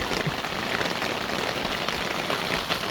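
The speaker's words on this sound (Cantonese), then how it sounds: "嗰啲冰打到部車度啊！" Hailstones pelt a vehicle at a campervan campsite, a dense, constant rattle of small hard hits on the bodywork, loud and close with no pause.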